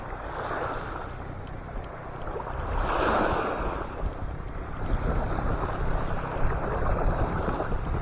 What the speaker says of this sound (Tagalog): Medyo may hangin ang mga master.